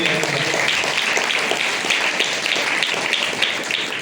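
A congregation claps together at a Christmas church service, a dense, steady wash of applause filling the room for the full stretch without a break.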